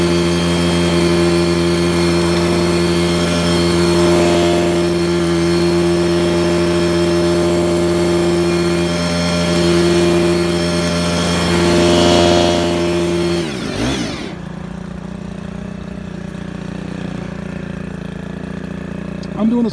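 A Stihl power broom with rubber paddles runs at a loud, steady engine drone as it sweeps rock and dirt, then drops to a lower idle near the end.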